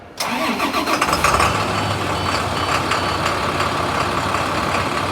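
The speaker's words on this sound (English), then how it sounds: "when we start the truck up" A truck engine cranks briefly and catches, then settles into a steady, loud mid-pitched idle that runs on alone with no talking.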